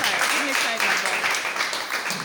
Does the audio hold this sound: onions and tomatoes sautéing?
no